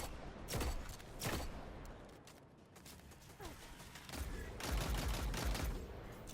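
Weapon fire in Destiny 2, with a machine gun and an arc bow, heard as loud bursts of rapid shots and crackling impacts separated by quieter stretches, with background game noise between the volleys.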